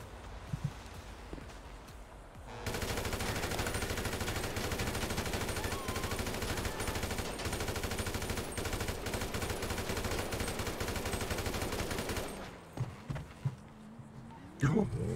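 Rapid automatic gunfire in a GTA role-play game roars almost continuously for about ten seconds, loud and dense, with a few scattered shots and faint voices before and after the burst.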